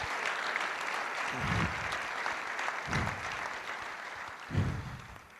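Church congregation applauding during a worship service, a steady wash of clapping from many hands filling the room, with a few heavier bursts standing out above the crowd.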